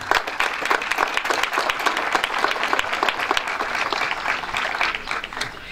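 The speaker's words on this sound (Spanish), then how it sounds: "les pido un fuerte aplauso de bienvenida" A crowd at the opening of a sports event applauds to welcome the teams, with dense, sustained clapping throughout, close and fairly loud, with no talk over it.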